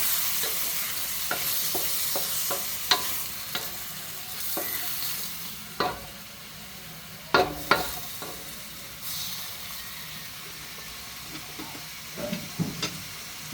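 Shrimp stir-frying in a pan for chop suey gives a steady close sizzle, broken by sharp scrapes and clacks of a utensil stirring at irregular intervals, with no talking.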